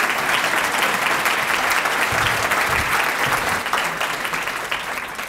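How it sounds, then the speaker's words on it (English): A room of attendees at a schools foundation breakfast gives a round of applause to grant award recipients, thick continuous clapping that holds steady, then gradually thins and fades toward the end. "Let's give one last round of applause to the 2016 Innovative Learning Grant Award recipients"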